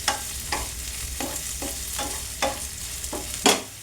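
Salted onions sauté in a pan under a soft bed of sizzle, while a utensil scrapes and stirs in a run of distinct strokes, about one every half second, close and clear with no voices.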